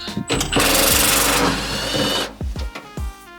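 An impact driver backs nuts out of a campervan swivel seat: one loud, sustained rattling burst up close, then several short, sharp bursts.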